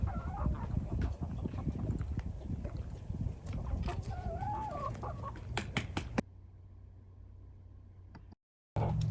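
Backyard chickens cluck and scratch while pecking at scattered corn during fall and winter feeding, soft calls and pecking taps close by for about six seconds before the sound drops to a low hum and briefly cuts out.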